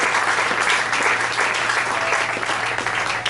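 A church congregation applauds steadily throughout, a dense wash of many hands clapping at close-to-mid distance with no pauses.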